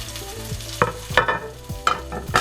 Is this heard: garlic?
yes